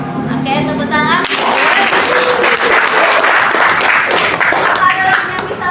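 A classroom of students breaks into lively clapping, a dense, loud burst of many hands with a few voices and cheers mixed in, following a brief spoken prompt at the start.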